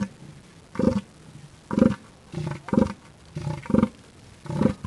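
Northern elephant seal calling in a series of deep, throbbing roar-like pulses, about seven loud bursts spaced roughly evenly, close and alone with no voices.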